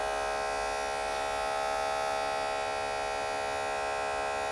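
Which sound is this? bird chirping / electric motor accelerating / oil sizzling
electric motor accelerating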